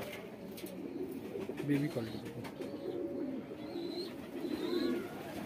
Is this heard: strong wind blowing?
no